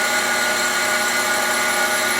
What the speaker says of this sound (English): Now I'm grinding